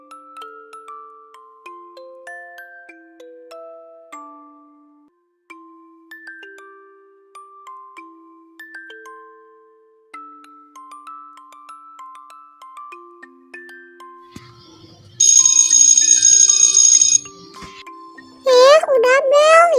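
A school bell rings in the Avatar World video game for about two seconds, loud and steady, after a soft tinkling melody of single notes. A voice follows right after.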